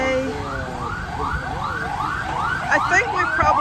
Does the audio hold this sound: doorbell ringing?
no